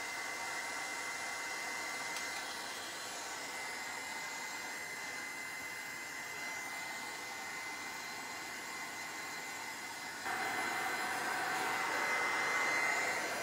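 A heat tool blows steadily to dry paint on a frame during a metal-and-rust style makeover, a continuous close airy whir that grows slightly louder and brighter near the end, with no talking.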